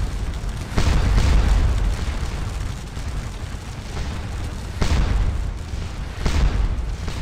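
Cannon roundshot impacts in a Napoleonic Waterloo battle game, heard as repeated heavy booming thuds over a continuous rumbling battlefield din, with stronger blasts landing about every one to two seconds.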